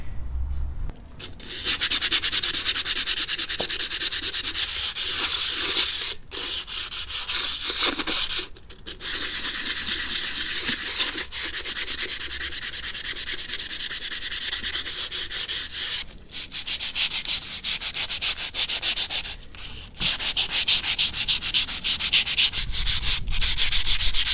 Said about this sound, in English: we're going to continue sanding this down with some sandpaper